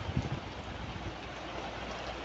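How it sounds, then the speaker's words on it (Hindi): Steady rain hisses continuously in Riyadh, Saudi Arabia, a dense even wash of drops with a few closer patters at the start. "लेकिन बारिश देख रहे हो रियाद में"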